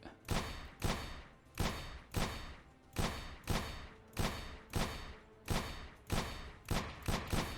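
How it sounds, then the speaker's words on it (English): Gunshots in a shooting video game, about a dozen sharp loud reports fired at a steady rhythm, each with a short decaying tail, quickening slightly near the end. "I missed a couple of shots there."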